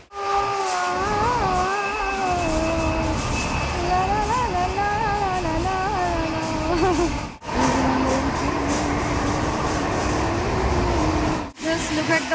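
Steady rumble inside a moving, nearly empty passenger train, with a wavering tonal whine over it and brief dips in the noise.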